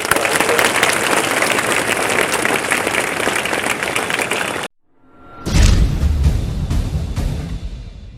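Applause from an audience at a school function fills the first half in a dense, steady wash, then cuts off abruptly; after a short silence a different loud rumbling burst with thuds follows.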